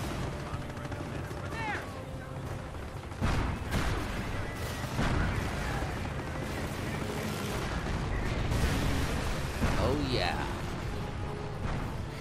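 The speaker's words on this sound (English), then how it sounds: "Go, bombing run." Bombing-run explosions and gunfire from the Company of Heroes World War II strategy game, a dense, continuous roar of blasts and shots with several heavier booms standing out.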